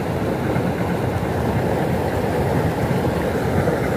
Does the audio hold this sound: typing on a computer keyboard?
no